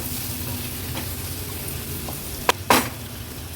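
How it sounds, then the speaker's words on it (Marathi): Chopped tomato is stirred into hot spices in a pan for a Maharashtrian vegetable dish, giving a steady close sizzle with a couple of sharp scraping stirs near the end. "आता ह्याच्यामध्ये आपण हा टोमॅटो ॲड करणार आहोत"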